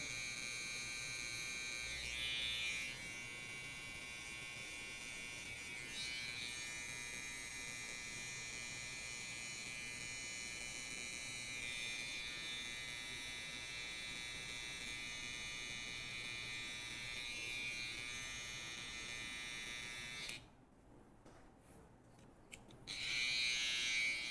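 An electric hair clipper buzzes continuously while trimming hair during a short social haircut, a close steady whine that stops briefly near the end before resuming.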